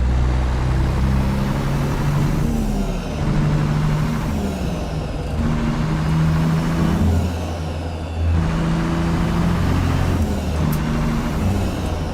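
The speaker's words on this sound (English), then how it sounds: "I wonder if the single turbo version will have a bit more engine sound to it" Steady truck engine drone from an American Truck Simulator rig fitted with a Caterpillar C15 engine, rising and falling in pitch through repeated gear shifts, loud and continuous with no talk.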